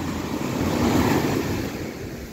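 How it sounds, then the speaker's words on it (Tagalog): Strong ocean waves wash onto a sandy beach at San Juan, La Union, a steady broad roar of surf that swells in the middle and eases slightly toward the end, with some wind buffeting, and no voices. "Lakas ng alon eh, oh."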